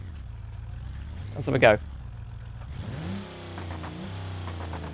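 In the BeamNG driving game, a 1930s racecar engine revs low to moderately in a tunnel, an echoing mid-pitched drone that climbs then holds steady, with someone speaking briefly before the rev.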